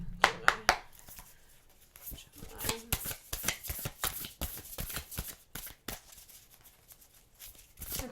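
Tarot cards being shuffled by hand, a soft quick riffling and slapping in irregular bursts, close and fairly quiet in an indoor room, with no voices.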